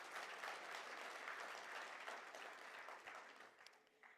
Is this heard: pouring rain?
no